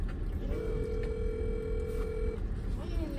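A steady single-pitch telephone tone, like a ringback or dialing tone during a call placed from inside a car, holds for about two seconds over low rumbling car noise, with faint background activity.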